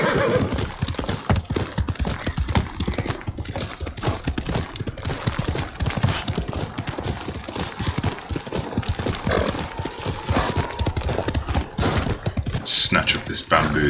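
Rapid, steady hoofbeats of a galloping horse in Ghost of Tsushima, with a loud whinny near the end and a voice talking over it.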